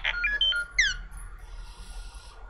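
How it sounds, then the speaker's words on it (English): Timer alarm going off, a short series of bright electronic beeps and a rising chirp melody in the first second, then fading into quiet room tone. "Oh, there goes my timer."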